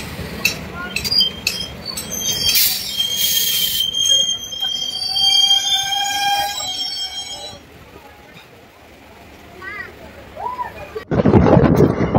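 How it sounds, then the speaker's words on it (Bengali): A DEMU passenger train runs along the line with a rumbling, rattling ride and high wheel squeals drawn out over several seconds, then a louder burst of noise near the end. "আর এই ডেমো ট্রেনে কিন্তু দেখুন এদিকে"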